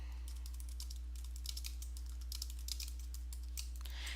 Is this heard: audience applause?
no